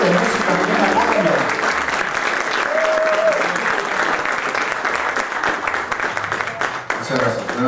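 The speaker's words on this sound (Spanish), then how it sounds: "vamos a recibir con un fuerte aplauso al maestro Gilberto Bedoya Hoyos y su trío de música andina colombiana" Dense, steady applause from a recital audience welcoming maestro Gilberto Bedoya Hoyos and his Colombian Andean music trio. It fills the full length at an even, loud level, with a few faint tonal cries mixed in.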